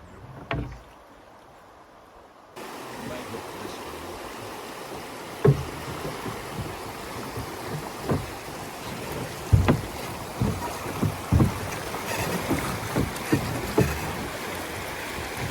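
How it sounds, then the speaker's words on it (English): A boat heads into river rapids amid steady rushing water and wind, with scattered splashes and knocks growing busier over about thirteen seconds after a quiet start. "we're coming into a rapids."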